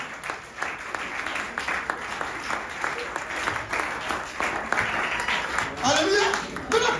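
A church congregation applauds during a Sunday service, sustained close clapping that swells and fades, with a voice speaking over it.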